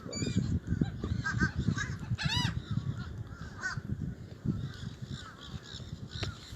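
Gulls call at a Gulfport, Florida beach, with several harsh squawking cries scattered through a busy outdoor mix of wind, rustling and distant voices, the loudest calls near mid-clip.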